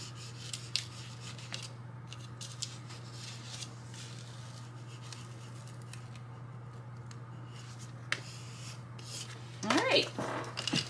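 A squeegee rubs a vinyl decal onto a Dollar Tree bathroom sign, giving soft, steady scraping strokes close by over a low hum, with a louder burst of rubbing near the end.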